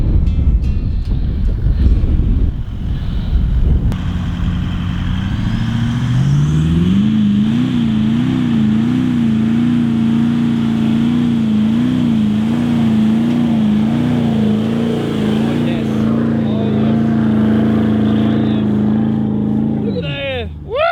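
A car engine drones loudly and steadily on sand, its pitch wavering up and down as the throttle works, after a rough start, with voices talking over it near the end.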